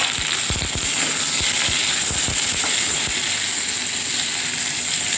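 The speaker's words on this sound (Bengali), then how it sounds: "টমেটো কুচিটা দিয়ে দিলাম।" Chopped tomato dropped into a hot pan where pointed gourd and spices are frying, setting off a loud, continuous sizzle with sharp crackles and pops, close and alone.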